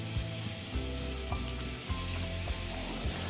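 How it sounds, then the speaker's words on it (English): Chopped garlic sizzles steadily in hot refined oil in a pan, a dense crackling hiss with small irregular pops and occasional stirring scrapes, close and with no talk. "In this heated oil, I am adding 1 tablespoon of chopped garlic."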